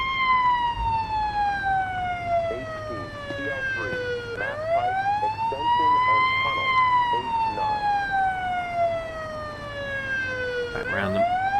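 An ambulance siren wails in the Police Simulator: Patrol Officers game, its loud tone sweeping down and back up in long cycles, with engine rumble beneath and faint talk over it.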